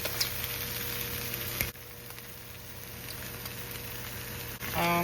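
Spam slices searing in a skillet give a steady, moderate sizzle of frying, with a clatter at the start and a brief clink near the end.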